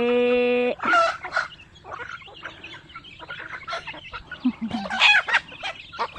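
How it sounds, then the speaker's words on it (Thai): Backyard hens cluck and squawk up close while being fed rice on a Thai home farm, the busy calls coming in uneven bursts with a loud opening crow-like call. "ให้ข้าวไก่"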